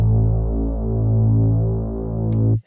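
Synth bass in FL Studio pushed through Trash 2 multi-band distortion on the mids, a single loud sustained low note droning steadily for about two and a half seconds before cutting off abruptly.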